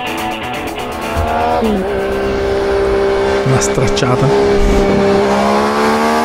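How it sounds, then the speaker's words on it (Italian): A three-cylinder Yamaha XSR 900 motorcycle engine of 116 horsepower, loud and close, revving up with a steady rising whine and harmonic drone, while someone speaks briefly over it. "Questa moto ha un sound bestiale, veramente veramente bella, è una 3 cilindri con 116 cavalli"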